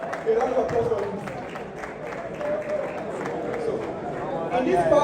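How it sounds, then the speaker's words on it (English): Audience applause at the Forex Millionaire Expo 2026, a sustained wash of clapping and crowd noise filling a large event hall, steady throughout and swelling slightly toward the end, with voices mixed in. "A round of applause for him."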